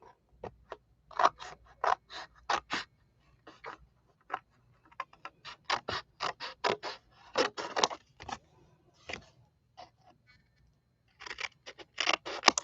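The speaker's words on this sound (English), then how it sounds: "let me cut that off around the edges" Scissors snipping paper around the edges of a craft piece, a long series of crisp, close cuts in quick clusters separated by short pauses, set against a quiet room.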